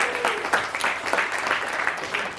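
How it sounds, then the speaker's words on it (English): Audience applause at a comedy game show in a Los Angeles theater, a short burst of many hands clapping, close and lively, with no talking over it. "clap it up one more time for Anne-Marie."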